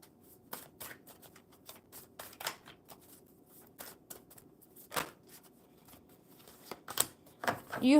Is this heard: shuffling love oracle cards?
yes